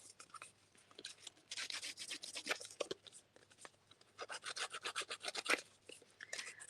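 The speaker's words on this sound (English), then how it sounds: "So I'm doing a little bit of distressing here as well." Craft elements are distressed by rubbing, with scratchy rasping strokes repeated in short bursts and brief pauses, close and fairly quiet.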